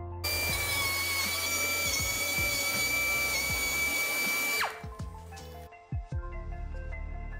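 A Euroboor BM45AIR pneumatic 45-degree chamfering machine runs with a loud, high, steady whine for several seconds, then cuts off. A few clunks and knocks of handling follow at close range.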